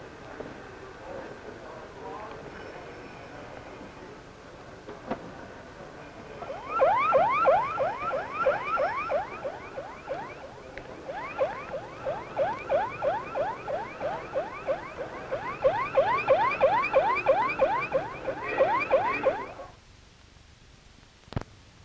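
A warbling electronic signal tone from a radio transmitter at the 1967 Paris Air Show pulses rapidly for about thirteen seconds, with a short break partway through, then cuts off abruptly over faint background hiss.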